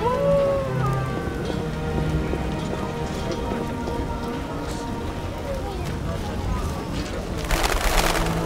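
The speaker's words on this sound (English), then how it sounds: "What a downpour." Heavy downpour in The Witcher video game, a dense, steady roar of rain hitting surfaces that stays loud throughout, with a brief burst of harsher noise near the end.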